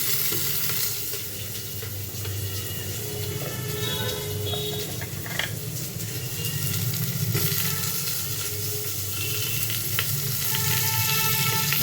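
Onion and vegetables fry in a pan with a continuous loud sizzle while they are stirred and scraped now and then, with no one talking.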